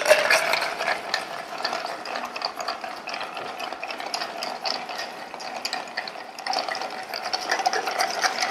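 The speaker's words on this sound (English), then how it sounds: "Just going to stir it down to get it like really cold." A Calvados Martini is stirred with ice in a mixing glass, producing a continuous, close rattle and clink of ice cubes swirling at a steady fast rhythm.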